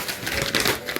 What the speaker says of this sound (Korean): 사관의 종이 넘기는 소리까지 환청이 들리는 듯하네